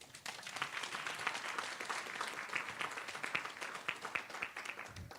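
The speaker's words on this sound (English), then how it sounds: "A round of applause, please." A sustained round of applause from a conference audience, many hands clapping in a dense, even wash that stays steady from start to finish, heard at a moderate distance.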